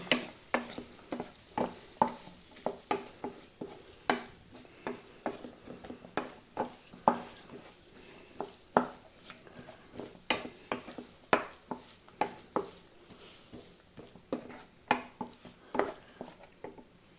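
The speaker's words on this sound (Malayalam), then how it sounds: "ഇതിലേക്ക് നമ്മൾ അരിഞ്ഞിരിക്കുന്ന ചെറിയ ഉള്ളി ചേർത്തെടുക്കാം ഇതൊരു പത്ത് പതിനഞ്ച് ചെറിയ ഉള്ളിയാണ് തോർത്തിയേക്കണേ നന്നായിട്ടൊന്ന് വഴറ്റാം" Chopped small onions with ginger-garlic paste sauté in a pan, a spoon knocking and scraping in regular strokes over a soft, steady sizzle, with no talking.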